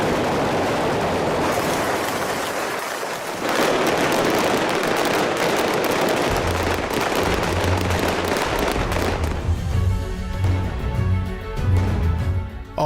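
Pyrotechnic gunfire effects fired on a Bond film set in a square, a loud, dense, continuous crackling barrage of rapid blasts lasting many seconds before easing into scattered pops.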